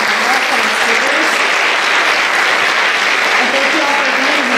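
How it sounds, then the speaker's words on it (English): Loud, dense applause from an evening panel-event audience for panelists and speakers, a continuous roar of many hands clapping close to the microphone with a murmur of voices mixed in. "Give a round of applause for our panelists and our speakers."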